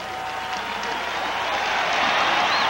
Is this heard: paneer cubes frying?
no